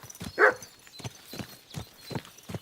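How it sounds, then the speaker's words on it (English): Dog in the medieval video game Kingdom Come Deliverance 2 giving a short series of sharp barks, spaced out and fairly faint, over quiet outdoor background. "What's the dog barking at?"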